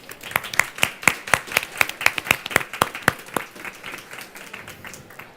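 A handful of people clap for panelists at an evening climate-policy discussion, sharp individual claps in a loose, uneven rhythm that thins out and fades toward the end.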